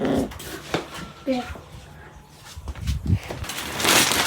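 A small dog whimpers and yips softly in a few short bursts at close range, mixed in with nearby human voices and some rustling.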